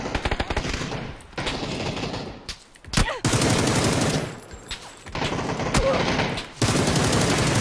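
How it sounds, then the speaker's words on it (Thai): Gunfire in the battle-royale video game PUBG rattles out in repeated automatic bursts separated by brief pauses, loud and close, with sharp single cracks between the volleys. "ผมโดนตัวไกยิง"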